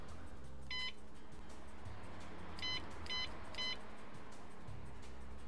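Diagnostic code reader in the video game Car Mechanic 2014 giving one short electronic beep, then a quick run of three more, over a quiet low background hum.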